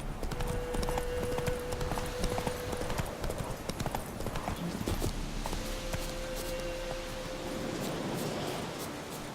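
Hooves of Roach, Geralt's horse in The Witcher 3, clatter in a fast steady rhythm across hard ground, with the clip-clop persisting throughout and a wind-like noise beneath.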